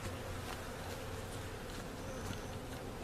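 Honey bees in a troubled laying-worker hive, buzzing as a continuous faint hum, with individual insects droning past now and then and a brief louder buzz at the end.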